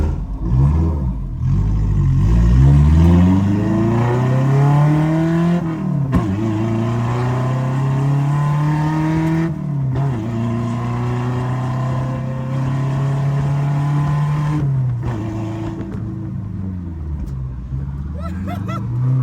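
A Honda S2000 with a swapped turbocharged K20 engine revs up and down repeatedly, rising in pitch then dropping, with brief crackling backfire pops between pulls; loud and close, no speech.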